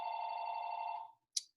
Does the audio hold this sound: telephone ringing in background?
yes